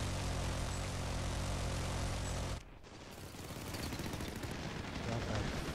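Jet and rapid gunfire from an F-14 fighter in the Ravenfield combat game, a dense continuous roar that cuts out abruptly, then builds back into loud engine noise and shooting.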